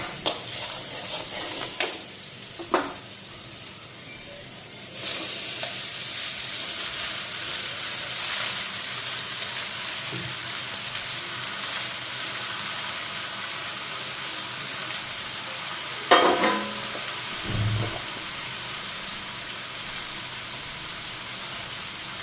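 Green chili and turmeric sizzle steadily in hot oil in a home kitchen, with a continuous bright hiss, scattered spoon stirs and clinks, and a few louder sputters along the way; no one talks.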